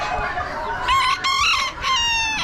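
Roosters crow repeatedly at an Amish animal auction, among Old English game birds with silver duckwing and black-breasted red plumage. The calls are loud, close and overlapping, with clucking around them.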